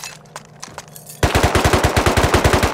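AK assault rifle fire in a raiding video game, a sudden loud burst of rapid automatic shots after a quieter stretch with brief noises.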